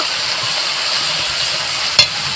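Chilli powder is stirred into potol and prawns frying in a pan. A steady close sizzle runs throughout, and one brief scrape of the utensil comes near the end.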